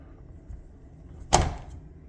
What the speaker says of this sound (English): So I close the door,